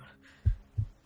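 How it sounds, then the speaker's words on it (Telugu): Heartbeat sound effect in a Telugu action movie scene: two deep, soft thumps about a third of a second apart, low and muffled over quiet background. "హార్ట్ బీట్ ఉంది."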